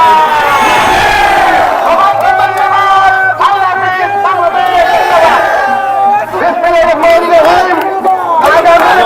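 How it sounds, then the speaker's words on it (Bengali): Dense crowd of campaigners chanting slogans for the paddy sheaf candidate along a road during a final election rally in Sunamganj, voices loud and continuous, rising and falling in repeated waves with shouted lines over a steady roar. "পুরো সড়ক জুড়েই কিন্তু আজকে শুধু ধানের শীষের প্রার্থীর এবং ধানের শীষের স্লোগান"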